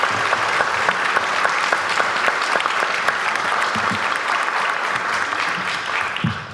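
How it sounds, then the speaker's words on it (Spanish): An audience at a book presentation gives steady, sustained applause for the authors Gerardo Caetano and Andrés Aspiros, dense clapping that continues throughout and tapers slightly at the end. "les pido un fuerte aplauso inicial para ellos"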